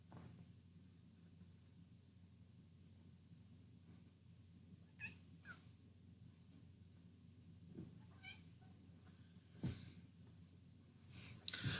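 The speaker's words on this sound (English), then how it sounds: "That was the sound of the cat." A house cat gives several short, soft meows scattered over a steady low indoor hum, fairly faint and at some distance, with a quiet breathy sound near the end.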